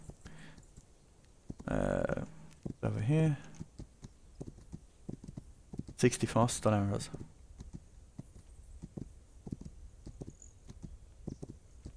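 Horse hooves in the video game This Land Is My Land clip-clop in a steady, quiet rhythm, interrupted by a few short bursts of speech.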